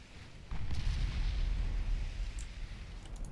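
A naval artillery salvo booms from warships in the naval combat game Ultimate Admiral Dreadnoughts, a deep rumbling roar that begins abruptly and rolls on steadily with scattered crackles, loud and without talk.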